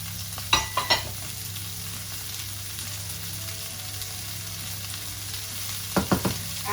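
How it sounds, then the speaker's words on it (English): Onions and peppers fry in oil in a pan, giving a steady low sizzle with a couple of brief clusters of stirring scrapes near the start and end, close and moderately loud, with no voices. "I'm just going to add in our onions and peppers."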